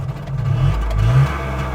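A Messerschmitt KR200 microcar's small engine turns over as the key is turned with the choke on, then catches and runs with a low, rising buzz, loud and close.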